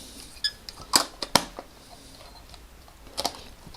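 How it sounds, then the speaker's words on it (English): A Baby Rolleiflex camera's film is wound on, setting the shutter, giving a few sharp mechanical clicks and ratchet ticks close by, spaced irregularly and followed by a quiet stretch and a final click. "as you wind on, it sets the shutter"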